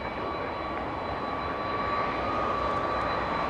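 A 43-year-old McDonnell Douglas DC-10 jet airliner at Los Angeles International Airport gives off a steady, loud, broadband engine roar with faint high whines, continuous and unbroken.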